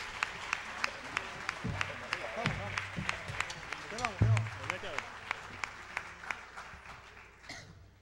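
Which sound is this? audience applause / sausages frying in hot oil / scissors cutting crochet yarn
audience applause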